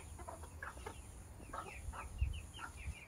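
Chickens clucking and chattering in a farmyard just after being released from their coop, several close, irregular clucks and short calls overlapping for a few seconds with no talk.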